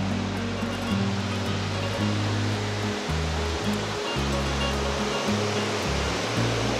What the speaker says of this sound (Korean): 산정호수인데 물이 많이 차면은 이렇게 흘러내리는 폭포네요.